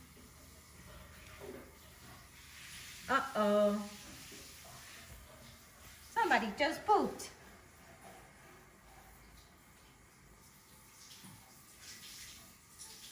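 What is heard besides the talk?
shower water spraying in a bathroom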